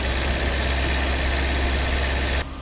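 A 39-year-old BMW E30 engine idles at about 1,600 RPM with a steady, close drone and rumble, then cuts off abruptly near the end.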